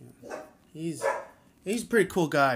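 A pet dog barks in several short, sharp bursts near the end, mixed in with someone talking at a moderate level.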